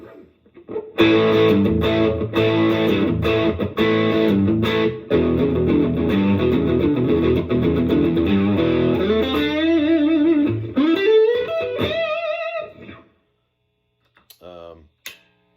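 Distorted electric guitar, Fender American Professional II Stratocaster HSS on middle pickup position split, playing chords and riffs for about twelve seconds, loud and gritty, then fading to a few quieter single notes before silence.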